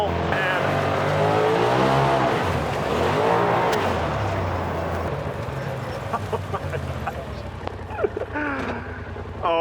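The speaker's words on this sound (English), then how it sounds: "Driving in, controlled, I don't want to jump this, and whoop, just a nice little surge of throttle" A Polaris side-by-side off-road vehicle accelerates along a trail, its engine rising and falling in loud, close surges before settling into a rougher rumble, with people talking over it.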